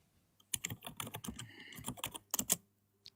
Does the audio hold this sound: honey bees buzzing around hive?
no